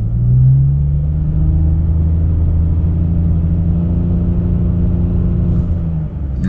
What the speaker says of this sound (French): J'accélère à fond là.